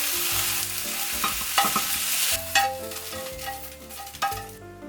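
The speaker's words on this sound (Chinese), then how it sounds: "好，现在已经看不到粉红色了，我们可以关火，然后把它们倒出来。" Diced chicken for a ginger and spring onion dish, fully cooked, is stirred and scraped out of a wok, with loud sizzling and frying and metallic clanks of the spatula against the pan, with no talk.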